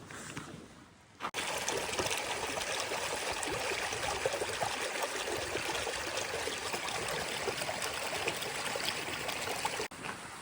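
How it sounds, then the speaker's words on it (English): Water trickling and dribbling down toward a loch in the Cairngorms mountains, a steady close rushing babble of a small stream that starts abruptly and runs continuously without voices. "That's just another massive body of water that dribbles down into the lock."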